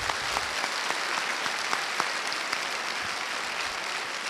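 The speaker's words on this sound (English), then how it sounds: "can everybody give him a round of applause for" An audience claps together in sustained applause at a journalism conference talk, a dense even patter of many hands with no voices.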